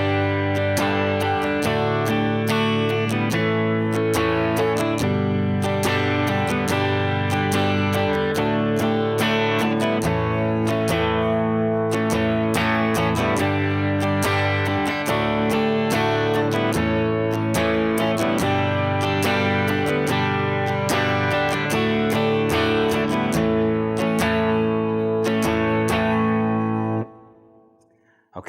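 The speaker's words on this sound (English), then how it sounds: "So here's what the main guitar on the verse sounds like." The main electric guitar part from the verse of a song plays as steady, dense strummed chords with an effects-laden, slightly distorted tone and reverb for nearly half a minute, then stops abruptly.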